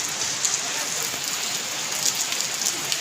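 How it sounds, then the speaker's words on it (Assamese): Heavy rain pours steadily, a dense hiss of drops drumming on surfaces close by, with brief louder spatters scattered through and no voices. "শুনি আছে বৰষুণৰ একবাৰ আৱাজটো আপোনালোকে শুনি লওক"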